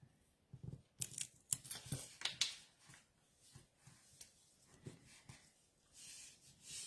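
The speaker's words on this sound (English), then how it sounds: "I'm just going to use some Scotch tape. That's just easy. I'm going to tape right across them." Scotch tape pulled off the roll and pressed across paper in a craft session: a quick series of sharp, dry rips and crackles near the listener, clustered in short bursts with quiet gaps between.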